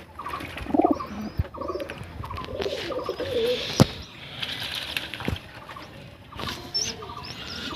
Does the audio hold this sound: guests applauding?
no